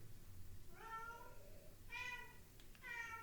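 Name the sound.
cat meowing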